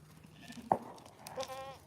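A goat bleats once in the middle distance during an evening walk on a farm, a short wavering call over quiet outdoor background noise.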